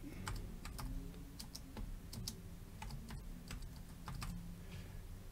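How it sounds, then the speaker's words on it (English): Keys on a computer keyboard tapped in short, uneven runs of crisp clicks while a command is typed, close and fairly quiet over a low steady hum, with no talking. "And then we're going to type in apt-get update."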